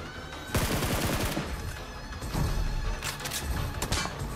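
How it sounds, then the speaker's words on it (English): Gunfire in PUBG Mobile, with several bursts of rapid shots, a long volley early followed by further crackling bursts, loud and close, with no talk over it. "there's somebody shooting from afar"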